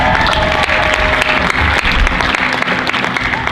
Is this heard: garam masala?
no